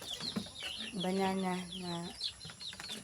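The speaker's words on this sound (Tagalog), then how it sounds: "Ipakain namin sa mga manok." Chickens cluck repeatedly in the background while a person talks and prepares banana trunk to feed them, with one drawn-out squawk standing out clearly.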